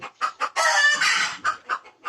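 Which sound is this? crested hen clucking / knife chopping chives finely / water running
crested hen clucking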